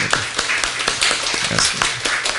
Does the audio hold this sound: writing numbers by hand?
no